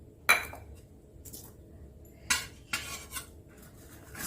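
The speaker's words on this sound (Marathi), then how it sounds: "आता ह्या एक एक वाटीमधली आपण इडली काढून घ्यायची." Steamed finger millet idlis are pried out of small steel bowls, giving a few sharp metallic clinks and scrapes of a spoon against steel, close and separated by quiet pauses.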